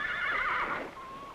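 A horse whinnies in a short, clear neigh with a wavering high call that trails off into a thin tail, heard alone and fairly close.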